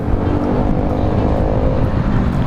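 A motorcycle overtaking vehicles on a road, with a steady, loud engine and traffic roar that continues without a break, close to the rider, with no talk.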